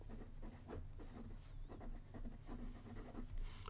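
A Sheaffer Student fountain pen from 1958, filled with a modern Sheaffer cartridge, scratches softly across Rhodia paper in short repeated strokes. The sound is quiet and close, with no voices.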